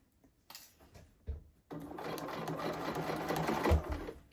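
Sewing machine stitching a blazer shoulder seam, starting after a few light clicks and taps, then running in a steady close whirring stretch with a soft knock near the end.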